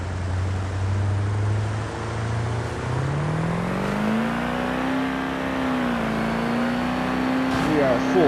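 A pulling truck's engine roars at full throttle in the BeamNG driving game during a truck-and-tractor sled pull, its pitch climbing steadily as boost builds, loud and continuous throughout.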